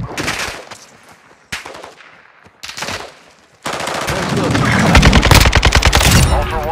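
Gunfire in the video game Call of Duty Warzone DMZ: loud bursts of automatic fire broken by short pauses, then a long, continuous stretch of rapid shooting with other battle noise.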